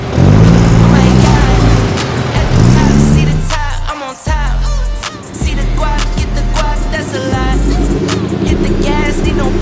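Big, loud cars and huge SUVs rumble and rev close by on a busy Miami street. Engine drones rise and fall, and one brief pause in the traffic noise comes partway through.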